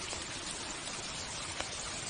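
Steady rain falling, a dense even hiss of raindrops close by and continuous throughout, with no voices.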